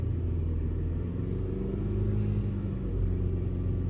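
Kia Sorento engine idling and revving in short taps of the throttle, a close, steady low rumble with slight swells in pitch and loudness, no talking.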